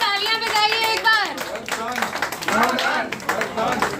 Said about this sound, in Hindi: हमारे जननायक के लिए जोरदार तालियां बजाइए एक बार